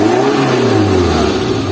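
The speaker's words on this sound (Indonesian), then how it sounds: "suara mesin raungannya coba kita geber aja" A 1997 Suzuki Carry 1.0 engine revs steadily with a throaty mid-low drone, held at a high pitch then easing slightly, loud and close with no other sounds.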